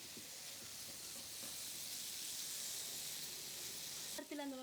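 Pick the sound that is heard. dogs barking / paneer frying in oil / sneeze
paneer frying in oil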